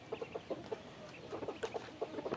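Chickens wading in water cluck in short, repeated bursts, soft and somewhat distant, with no talking.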